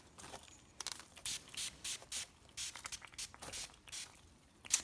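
Rubbing alcohol is sprayed onto an upside-down aloe plant infested with mealybugs in a series of short, close, hissing spritzes, quiet and irregularly spaced.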